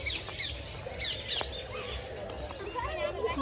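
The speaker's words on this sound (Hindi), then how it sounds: "ये तोते" Parrots flying free in an open, netted green aviary in Islamabad give repeated harsh squawks and chirps, close and loud, with someone talking over them.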